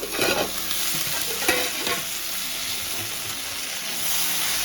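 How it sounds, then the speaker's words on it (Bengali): Eggplant and potatoes frying in a pan are stirred, producing a loud, steady sizzle with scraping and shuffling strokes of the spatula throughout, near and without talk. "খুলে একটু নেড়ে দিচ্ছি"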